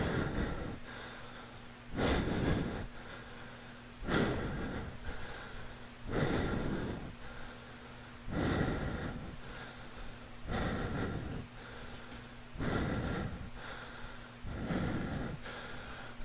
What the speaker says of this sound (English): So I could still hear me breathing